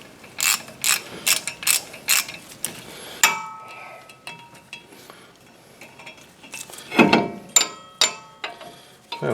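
A ratchet clicks in several quick bursts while tightening a Torx bolt on the front brakes of a 2006 Chevy Silverado, sharp close metallic ratcheting with brief pauses and light tool clatter between runs.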